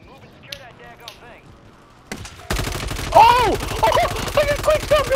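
Rapid gunfire from a video game firefight, loud bursts kicking in partway through after quieter sounds, with excited voices shouting over the shooting.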